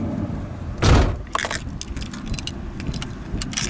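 Keys jangle near the ignition of a 2004 Ford E-150 van, with a loud rustling burst followed by several sharp metallic clinks and rattles at close range.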